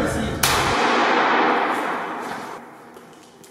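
A single sharp, loud slap lands during an interrogation scene in the French series RIEN100RIEN, then trails off into a dense, noisy background.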